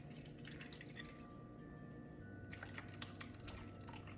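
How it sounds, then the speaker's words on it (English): Horizon organic milk is poured into a bowl for hot honey tenders, standing in for buttermilk, giving a faint, steady liquid trickle against quiet kitchen background noise. "I'm just gonna go ahead and use my normal Horizon organic milk and just pour it in there."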